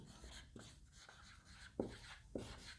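Quiet scratchy strokes of writing on a board, several short marks with a couple of sharper taps as letters are finished, close and faint, no talking.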